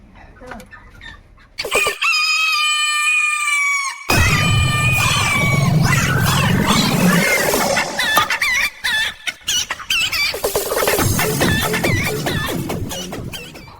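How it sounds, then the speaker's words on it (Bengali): Chickens clucking and a rooster crowing loudly nearby, with excited squawks and flurries of calls, and a person's voice briefly mixed in. "আমি মুরগি খেতে দিচ্ছি দেখ"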